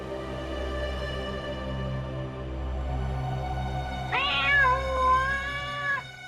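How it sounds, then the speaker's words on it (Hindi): A single drawn-out cat meow rises clearly near the end, over a low steady hum in the background. "ये बिल्ली की आवाज कहां से आ रही है?"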